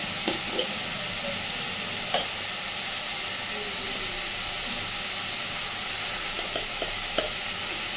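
Spices sizzle and hiss steadily in hot oil for an aar fish tel jhal curry, with occasional soft clinks of stirring over the continuous frying.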